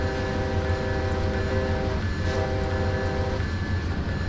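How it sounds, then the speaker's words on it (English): An Amtrak train horn in Train Simulator 2019 blows two sustained chord blasts, the first long and the second shorter after a brief gap, loud and close over the steady rumble of the moving train. "go ahead and sound the whistle."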